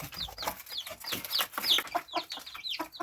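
Newly hatched chicks cluck in a busy, continuous chatter of short chirpy calls, close by and fairly loud, with several birds overlapping.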